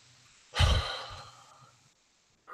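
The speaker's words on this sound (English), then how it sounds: "let's just take 5 deep breaths together" A single deep breath pushed out hard at the start of a guided full moon ceremony breathing exercise, loud and close, trailing off slowly into silence before a faint new breath begins.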